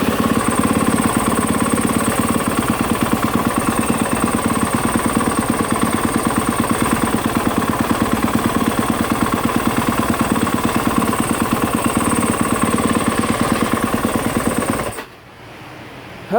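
A Yamaha YZ250F/YZ450F dirt bike engine runs loud and close after a throttle position sensor job, a rapid, even idling putter that holds steady, then cuts off abruptly near the end.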